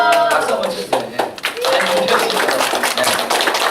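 Applause breaks out in a church during a Sunday worship service, a burst of dense clapping from the congregation that carries on for several seconds while voices murmur underneath.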